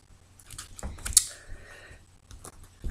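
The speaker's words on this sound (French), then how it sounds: "je vais procéder donc à la coupe" A deck of tarot cards is cut and shuffled, giving quick light clicks and riffling taps in short irregular bursts, close by and fairly quiet.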